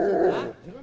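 A police dog from a canine brigade gives a short, close whimpering bark, a single brief yelp-like vocal burst.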